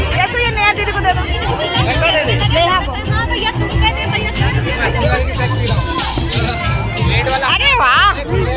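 Dense crowd chatter fills a wedding reception party, with many overlapping voices and close talk blending into a constant loud hubbub, plus a few brighter voices rising near the end.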